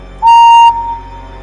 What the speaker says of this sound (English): he blew his whistle louder than he had ever blown before